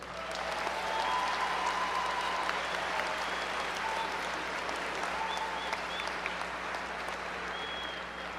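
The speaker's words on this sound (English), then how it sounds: "please join me in saluting the class of 2012 with a round of applause" A large audience at a college commencement applauds steadily and warmly for several seconds, a dense wash of clapping that stays even throughout.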